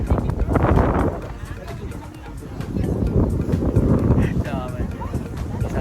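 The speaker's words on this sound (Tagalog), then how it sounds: "Hangin. Sobra." Strong outdoor wind at Mines View buffets the microphone in gusty low roaring bursts that swell and fade, heard under people talking nearby.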